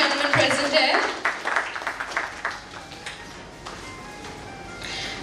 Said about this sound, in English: let's have a huge round of applause for the honorable gentleman present here